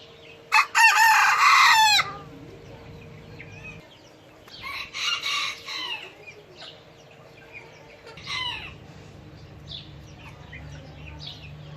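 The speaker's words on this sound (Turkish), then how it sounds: "ilk görmüş olduğunuz kar yağdı bir ispenç horoz" A snow-white Ispenç rooster lets out a loud, long crow close by, followed by two fainter, shorter crows in the distance.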